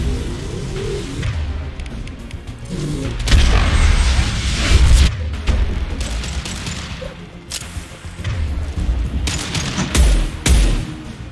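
Heavy weapons gunfire in the video game Mass Effect 2, booming blasts and rolling bursts of automatic fire, loud and layered with deep thuds and explosions across the whole stretch.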